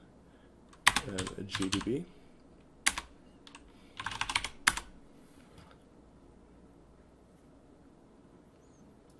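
Linux install command typed on a computer keyboard: quick bursts of clattering keystrokes in three short runs separated by pauses, fairly close and clear, with a brief voice in the background.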